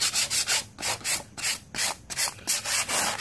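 Reclaimed wood for bookcase backs is hand-sanded to knock off splinters, a close, rough rubbing rasp in quick rhythmic strokes, roughly a dozen back-and-forth passes in a few seconds, with no voices.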